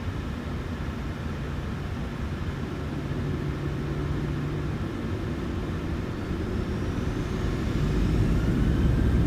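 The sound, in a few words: Boeing 737 jet engines at takeoff thrust, flight simulator game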